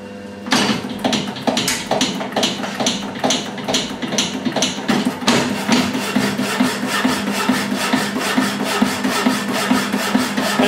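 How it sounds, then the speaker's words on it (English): A Milbo 5-inch power saw cutting metal, its blade strokes making a steady rhythmic rasping with regular back-and-forth pulses, loud and close, with no voices. "I can be doing something on the milling machine or talking to you, and the saw keeps on cutting."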